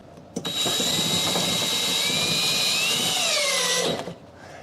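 A power drill drives a screw into a shelf upright, whirring loudly and steadily for about three and a half seconds, its pitch sliding lower near the end before it cuts off.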